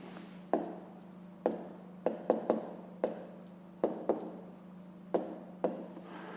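A pen scratches across paper while maths is worked out by hand, making short, separate strokes with sharp starts in an uneven rhythm, heard close and alone over a faint steady hum.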